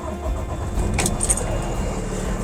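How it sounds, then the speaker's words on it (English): Diesel engine of a 2024 Renegade Verona 40VBH motorhome starting and idling, a low steady rumble with a brief jangle of keys near the ignition, close and fairly loud. "So our engine is running there."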